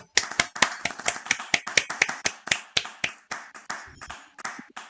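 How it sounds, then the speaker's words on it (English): A single run of hand clapping during an online art collage presentation, with sharp, fairly quick, uneven claps over about five seconds, close and clear with no talking. "That's a good clap for her."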